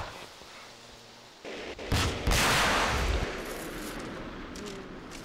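Gunfire in a military video game, with a couple of sharp shots or bursts about two seconds in, followed by a rumbling echoing tail that fades slowly.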